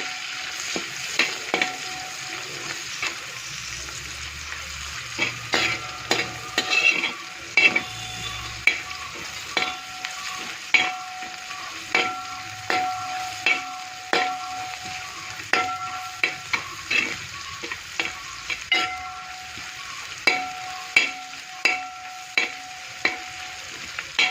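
Sliced onions fry in a pan with whole spices, cinnamon, cardamom and cloves, giving a soft continuous sizzle punctuated by regular clinks and scrapes of a spoon stirring, with no talking.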